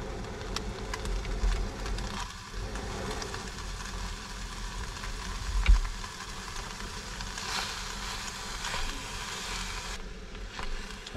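Meat sizzles in a pan inside a truck camper, a continuous crackling hiss with occasional louder pops, steady and moderately close.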